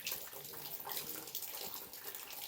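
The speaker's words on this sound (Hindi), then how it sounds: "तो अभी बाहर पे हो रही है इतनी खतरनाक बारिश" Heavy rain pours outside in a steady, dense wash of water that continues without pause, with no talking over it.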